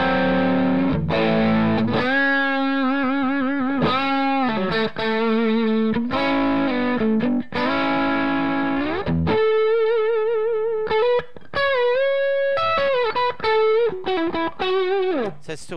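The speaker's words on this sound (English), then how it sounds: "I'm just going to stick on a turbo tube screamer." A Fernandez Revival 70s Strat copy electric guitar plays through a Turbo Tube Screamer into a Ceriatone JTM45 amp, producing a warm, crisp overdriven tone as sustained notes and chords ring out loud and continuous, with no talking.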